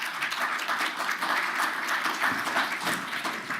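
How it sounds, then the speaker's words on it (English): Conference audience giving a warm round of applause, dense steady clapping from a crowd filling the whole stretch without pause. "Let's give him a nice warm round of applause."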